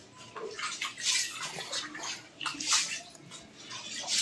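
Rice washed by hand in water for biryani, with repeated swishing and sloshing surges rising and falling close by, plus a little faint background voice.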